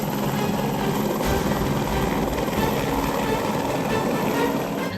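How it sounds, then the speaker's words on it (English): A helicopter landing: loud, steady rotor roar with a low thumping drone, close by and continuous throughout, with wind-like broadband rush and no talk. "The helicopter lands and we get off."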